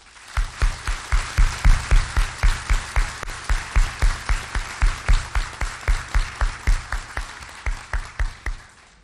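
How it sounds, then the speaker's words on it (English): Audience at a university presidential inauguration applauding servicemen, clapping in a slow, even, synchronized rhythm of loud, close beats that sways steadily for several seconds before thinning toward the end. "Please join me in a round of applause for our servicemen"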